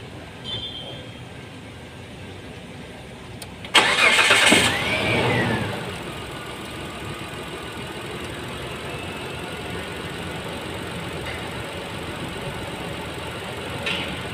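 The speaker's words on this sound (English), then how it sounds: "So I make it start the engine." A Mitsubishi Pajero engine cranks and catches with a sudden loud burst, then settles into a steady, even idle rumble that continues at moderate level for the rest of the stretch, with no talking.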